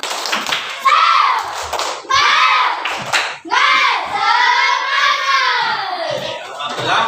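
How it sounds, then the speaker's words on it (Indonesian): A class of children performs the tepuk semangat clapping chant, their voices chanting loudly in unison in bursts, with faint hand claps mixed under the shouted rhythm. "Oke, kurang semangat. Tepuk semangat."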